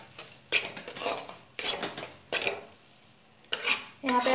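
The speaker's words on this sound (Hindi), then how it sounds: "हमारे जो आटे हैं घी में भून रहे हैं।" A spoon scrapes and stirs wheat flour roasting in ghee in a pan for atta halwa, in four separate bursts of rough scraping with short quiet gaps between.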